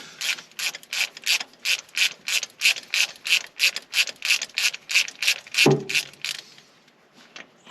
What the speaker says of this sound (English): I'm pulling these plugs out, see what we got.